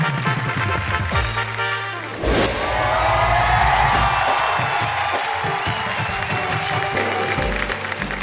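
An audience at a Hindi comedy show bursts into loud applause mixed with cheering and whoops, a dense wash of clapping that swells and holds for several seconds.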